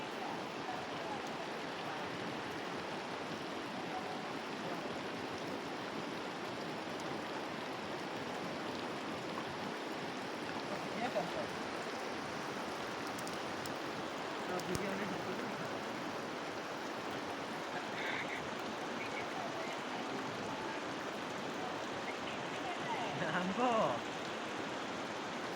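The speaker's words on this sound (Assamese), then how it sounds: "বৰষুণ গিৰি আছে বৰষুণ গিৰি আছে" Rain falls in a steady, soft, even hiss that lasts throughout, with a few faint scattered knocks and a brief louder patch near the end.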